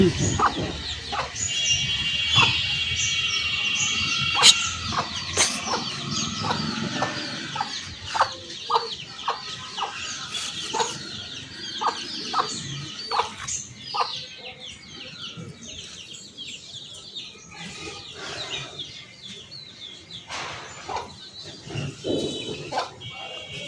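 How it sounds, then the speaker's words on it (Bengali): Chickens cluck and call repeatedly in a busy market setting, with short sharp bursts scattered through steady background chatter and people talking nearby. "কত মুরগি"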